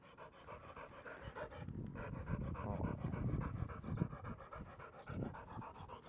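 A dog pants steadily after a training session outdoors, the quick rhythmic breaths close and clear from start to finish with no talk over them.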